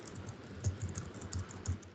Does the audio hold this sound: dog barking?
no